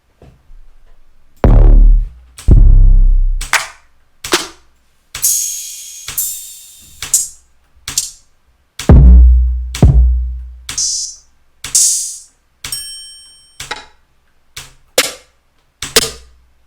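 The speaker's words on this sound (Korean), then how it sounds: "처음 808부터 마지막 스네어까지 들려드릴게요" A sequence of separate drum kit samples, one after another with gaps, from 808 to snare: deep booming 808 bass hits, sharp claps and snappy snare strikes, each ringing out briefly.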